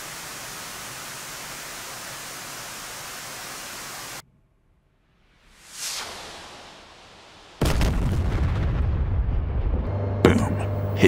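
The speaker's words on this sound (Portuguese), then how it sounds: "Agora eu aperto o botão de Weapons Release e o Maverick vai ser lançado." An AGM-65 Maverick missile is released from an F-16 in the DCS flight simulator. A steady roar cuts off, a whooshing launch sweeps past, and then a loud sustained rumble of impact and cockpit noise follows.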